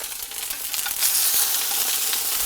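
Ricotta-wrapped bread frying in a pan gives off a steady, close hiss and crackle of hot oil, growing slightly louder midway and continuing without talk.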